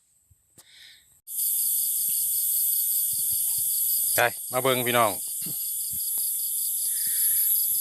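A loud, continuous high-pitched mole cricket trill blares from a Bluetooth speaker, steady and unbroken, while someone briefly talks over it.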